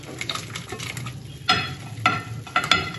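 A second batch of menestrón ingredients sizzles in a pot, with a soft continuous frying hiss broken by three louder bursts of crackling and stirring clatter.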